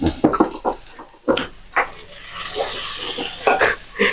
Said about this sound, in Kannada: ಬೆಳ್ಳುಳ್ಳಿನ ಚಚ್ಬಿಟ್ಟು ಹಾಕೊಂತ ಇದೀವಿ